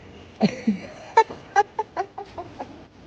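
A chicken clucks in a series of short, uneven bursts, close and moderately loud against a quiet background.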